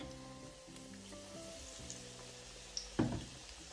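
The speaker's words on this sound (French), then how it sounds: "On l'égoutte un petit peu et on la met à frire." Battered zucchini flowers sizzle and crackle in hot oil, a soft steady frying hiss with a louder burst of spitting near the end.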